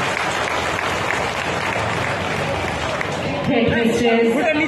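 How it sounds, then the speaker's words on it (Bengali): An audience claps loudly together at a Bengali school ceremony held alongside a neighbourhood Durga Puja pole-worship event. The applause is steady and sustained, with a voice starting to speak over it near the end. "সবাই একটা জোরে হাততালি দেবেন সমাধির জন্য।"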